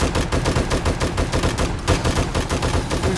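Rapid gunfire from a weapon in 7 Days to Die, a loud, continuous stream of closely spaced shots that rattles on almost without pause.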